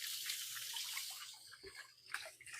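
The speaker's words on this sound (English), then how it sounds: "give my hands a quick rinse" Tap water runs steadily into a kitchen sink while hands are briefly rinsed underneath, a soft continuous hiss with small splashes and drips, close and fairly quiet, without speech.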